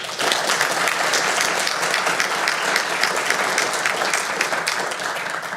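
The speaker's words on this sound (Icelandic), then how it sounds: "gefa nýjum stjórnarmönnum bara gott klapp" An audience at a pension funds association annual meeting gives new board members a round of clapping, loud and close, with crisp individual claps standing out in a continuous, even burst.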